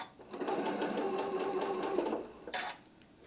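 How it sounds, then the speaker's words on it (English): A sewing machine runs steadily for about two seconds, slowly feeding fabric for a Grandma's Fan template quilt block, with a whirring motor hum and stitch ticks, then stops, followed by a brief clatter. "bringing it in as you're sewing. So I'm just going to take it slow and just let the machine pull it in."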